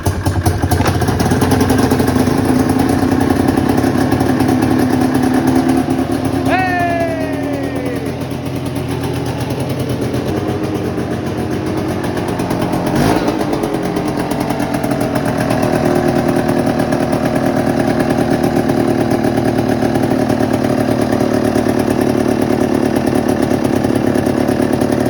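A Bravo snowmobile engine on a cold start, loud and close, running steadily with a raspy two-stroke buzz throughout, briefly rising in pitch and settling back to a rough idle.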